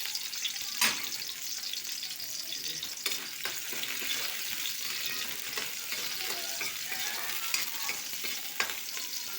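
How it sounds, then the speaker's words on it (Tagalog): Onions and other ingredients for chicken adobo are sautéed in a pan, giving a close, steady sizzle broken by scraping and stirring clatter throughout. "Kailangan ko muna igisa yung aking mga ingredients."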